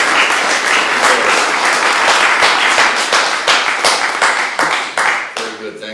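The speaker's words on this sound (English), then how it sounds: "Let's give him a round of applause." An audience at a Wagner Society panel discussion breaks into sustained applause, dense clapping from many hands that holds steady and then thins out toward the end.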